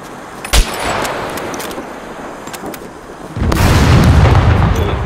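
A car blows up in the survival game Scum: a sharp crack, then after a few seconds a heavy, rumbling blast that swells and roars on, loud and close, with no talk over it.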